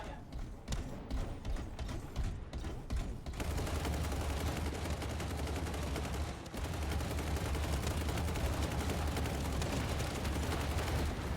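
Dense, continuous gunfire from mech combat in the video game Hawken Reborn, loud rapid bursts that start choppy and build into an unbroken roaring barrage with heavy low rumble.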